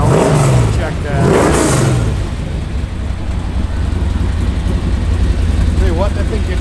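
A 1968 Chevrolet C10 pickup engine revs loudly, rising and falling twice, then settles into a steady, rumbling idle while people talk nearby.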